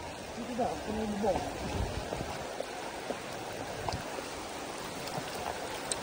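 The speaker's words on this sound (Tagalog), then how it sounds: "Kailangan, umuulan na pala. Hindi pala ambon. Malakas ha?" Heavy rain falls steadily outdoors near the Mount Bulusan hot spring, a dense, even hiss close around the listener, with people talking over it.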